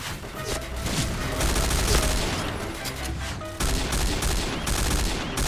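Bursts of G36C rifle fire in the shooter game Point Blank crackle in rapid, dense volleys, loud and near, layered with other gunfire and booms in a busy firefight with no pause.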